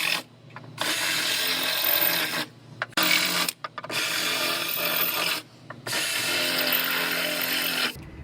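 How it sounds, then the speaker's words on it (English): A drill bores out spot welds through the top layer of sheet metal on a rear-damaged Honda CR-V body, with three sustained, close, loud grinding bursts separated by short pauses. "I'm going to drill out the spot welds just through this top layer right here"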